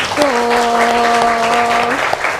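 Children applaud together in a classroom, a steady wash of clapping lasting a couple of seconds, with a sustained voice ringing out over it.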